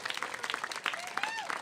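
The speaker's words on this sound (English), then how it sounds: "Let's give her a big round of applause." A crowd at a North Beach Branch Library celebration claps in a brief burst of applause, dense and steady under a faint whistle-like tone.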